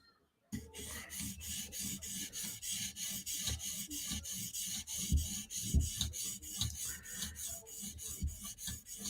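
A Chris Reeve Umnumzaan knife edge is stroked against a finger-supported sharpening stone, a steady run of close, rhythmic raspy scrapes that carries on without any talking.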